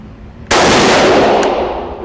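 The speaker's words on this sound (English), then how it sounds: "let's complain some more and shoot the gun" A single loud, close gunshot from a Springfield Armory Hellion 5.56x45mm bullpup rifle: a sudden sharp blast followed by a short, fading echo, with no voices.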